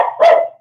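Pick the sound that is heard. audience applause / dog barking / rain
dog barking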